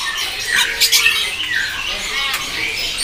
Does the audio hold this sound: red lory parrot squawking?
yes